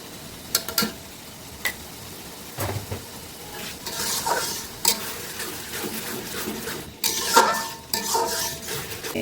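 Radhuni spice mix sizzles in a hot pan while a spoon scrapes and stirs, with intermittent clinks of utensil against metal.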